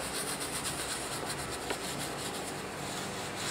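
A brush scrubbing cleaner into car surfaces during auto detailing, a close, soft, continuous rhythmic rubbing and bristle scratching at moderate volume, with no voices.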